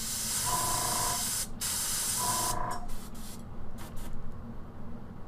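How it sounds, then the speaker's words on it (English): An airbrush hisses steadily while laying down base coats on Rune Wars miniatures, with short bursts that stop and restart near the end. "just sort of laying down some base coats with an airbrush"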